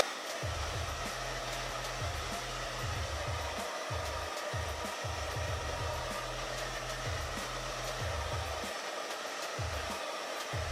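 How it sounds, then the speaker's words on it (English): A hair dryer blows steadily on a curly wig, a loud constant whooshing roar with a low motor hum that pulses as the dryer is moved or switched between settings, near and alone. "I like to blow dry it downwards so it stays down for as long as possible"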